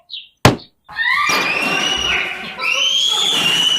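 A toy doll topples off a toy bicycle in a play scene: one sharp, loud thunk of the fall, then a voice speaking in high, drawn-out tones.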